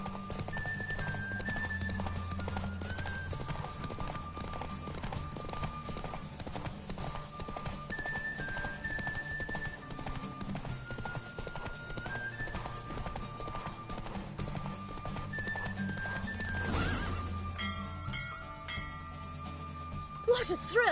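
Horse galloping in the game Witcher 3, rapid rhythmic hoofbeats pounding steadily under a melodic music bed, with talking over the ride and a louder burst of sound near the end.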